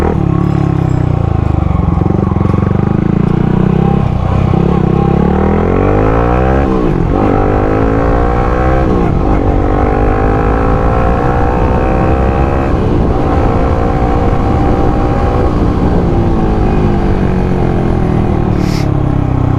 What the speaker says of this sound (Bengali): একটা রাউন্ড মেরে আসি, এক্সস্টের সাউন্ড শুনে আসি।